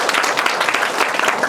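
An audience at a research presentation gives a brief round of applause, with dense, steady clapping that is close and fairly loud throughout.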